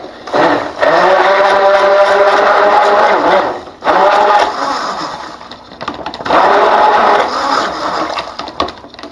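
A stick blender mixing thickening soap batter whirs in three steady bursts separated by short pauses, close and loud, with no talking.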